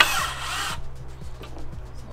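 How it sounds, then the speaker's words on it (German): A power drill drives screws to fasten metal bed brackets while a folding bed is built into a bus conversion. One loud, close whirring burst is followed by quieter scraping and faint rhythmic knocks. "Jetzt müssten wir befestigen das erstmal mit Schrauben"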